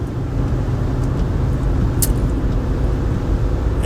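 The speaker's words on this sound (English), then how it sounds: "I'm in traffic, man." Loud, continuous road traffic with cars passing close by, a dense rumbling wash of engines and tyres with a brief hiss partway through, no talk.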